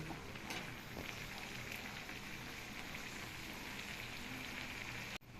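A soft, continuous bubbling simmer of squid adobo sauce in a pan, with faint crackles and pops, quiet and steady throughout.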